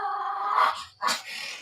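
A Chihuahua indoors gives a close, fairly loud growl that swells, breaks off briefly, then resumes as a shorter snarling growl.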